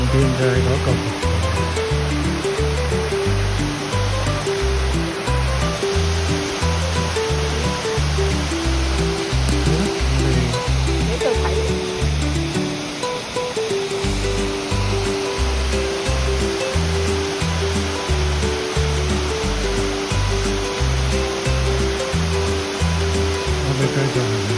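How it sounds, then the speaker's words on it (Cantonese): Glenoe Waterfall roars in a constant, loud, broadband rush of falling water, close by and unbroken throughout, with a steady low rhythmic thudding underneath. "前邊就係嗰個瀑布。"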